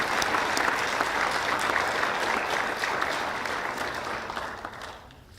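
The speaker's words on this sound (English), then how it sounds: "Let's give one last round of applause" Sustained audience applause at a University of Findlay Martin Luther King Jr. celebration, a dense steady wash of many hands clapping that fades gradually toward the end.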